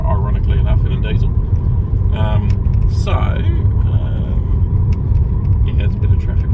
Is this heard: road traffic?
yes